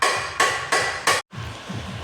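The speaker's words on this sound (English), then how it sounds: "those gentlemen over there are very noisily trying to uncouple a UJ on a prop shaft" Hammer blows ring out on a prop shaft while a universal joint is being knocked apart in a car workshop unit, four loud, close, evenly spaced strikes followed by a brief silence and some softer clatter.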